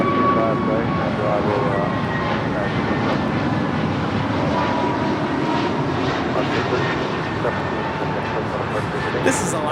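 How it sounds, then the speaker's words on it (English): An Alaska Airlines Airbus A321neo jet departs LAX, its engines producing a loud, steady broadband roar that fills the whole stretch, with voices faintly under it. "This is Alaska Airlines 1317 departing to Seattle on an A321neo."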